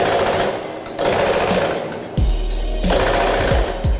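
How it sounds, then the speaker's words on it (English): A foot-pedal powered speed hammer pounds steel with rapid, heavy repeated blows in a workshop, loud and close, with a low mechanical rumble running underneath. "This speed hammer's powered by a foot pedal."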